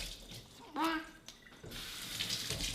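Tap water runs into a kitchen sink as produce is rinsed for a Vitamix green juice, a steady splashing stream with a brief louder gush partway through, fairly close and loud.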